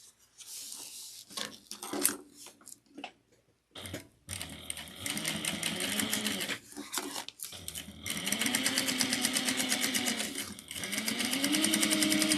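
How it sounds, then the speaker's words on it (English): A sewing machine top stitches fabric at a 1/8 inch seam allowance, starting with short stop-and-start bursts, then settling into long steady runs of fast rhythmic whirring and needle chatter, close and clear with no talking. "top stitch this down onto itself using 1/8 of an inch seam allowance"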